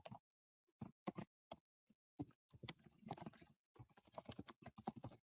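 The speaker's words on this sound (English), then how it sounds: "So I'm going to type my email address" Typing an email address on a computer keyboard: bursts of close, crisp key clicks in irregular clusters, with short pauses between runs and a denser, faster stretch toward the end, no talking.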